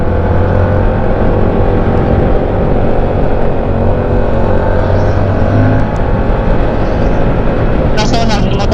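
A car accelerates hard on a racetrack and shifts into third gear, its engine droning loudly and continuously from inside the cabin while people talk over it.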